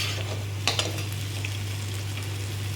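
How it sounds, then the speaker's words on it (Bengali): Potatoes frying in a kadai as they are stirred, a constant sizzling hiss under a low hum, with a couple of quick metallic scrapes of the spatula against the pan. "এবার এটাকে ভালো করে নাড়াচাড়া দিয়ে দেবো।"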